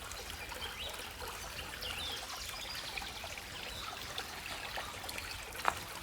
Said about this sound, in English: It's got a spring that comes out of it.